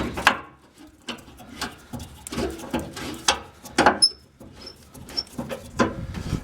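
Fuel tank mounting hardware being tightened on a 1996 Ford F-250, irregular close ratchet clicks and metallic scrapes with short pauses between bursts.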